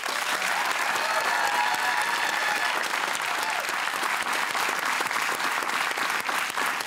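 A studio audience gives a panel on consent loud, dense, continuous applause that holds at full strength from start to finish, with faint crowd murmur beneath.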